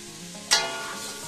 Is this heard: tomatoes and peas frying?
yes